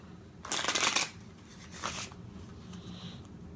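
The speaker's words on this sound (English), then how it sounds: "Good solid shuffles." Tarot cards shuffled in two bursts of crisp riffling, a long one followed by a shorter one, close and fairly loud, then faint rustling handling in a quiet room.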